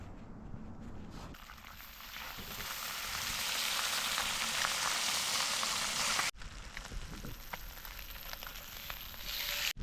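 Fish fillets fry in a pan at a campsite with a dense, crackling sizzle that swells and holds steady and close, with a brief cut before it resumes just as strongly.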